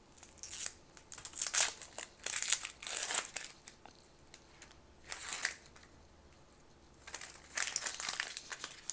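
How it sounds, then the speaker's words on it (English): Papery onion skins are peeled by hand on a cutting board, giving bursts of close, crisp crinkling and crackling separated by short quiet gaps. "to peel the onion."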